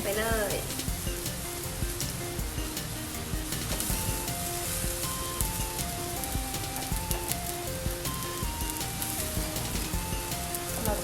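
Glass noodles and shrimp sizzle steadily in a hot pan as they are stir-fried, with a constant crackling hiss and light scraping under soft background music.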